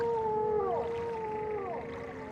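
Call of a silt strider, the giant long-legged creature of Morrowind, a low mournful whale-like moan with two sliding, groaning swells over steady ambient game sound.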